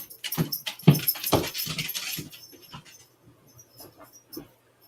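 A dog whimpers and pants close by in a quiet room, several short whiny bursts loudest early on that fade to faint sniffs and soft whines.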